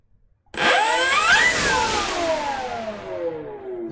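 An RC model motor, throttled up from a Spektrum transmitter, bursts in abruptly as a high electric whine. It climbs in pitch, then gradually winds down while staying loud and close, with no talking.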